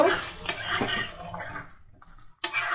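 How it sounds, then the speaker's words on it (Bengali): A lid is set on a cooking pot of new potatoes on a gas stove, a few soft metallic clinks and clatters of pot and cutlery amid low kitchen noise, ending in one sharp knock. "এবার দেখো আবার একটু আমি ঢাকা দিয়ে রান্নাটা হতে দেব"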